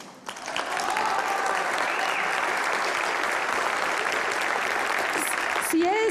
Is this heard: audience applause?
yes